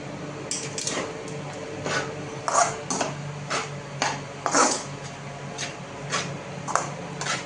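Pav bhaji vegetables are mashed with a hand masher in a pan, producing repeated soft squishing thuds and metallic taps against the pan at an irregular, unhurried pace, close and moderately loud.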